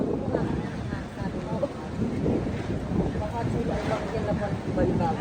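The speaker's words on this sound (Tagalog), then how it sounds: "ang lakas ng hangin." Strong outdoor wind buffeting and rumbling across the microphone in loud, uneven gusts, with voices talking underneath.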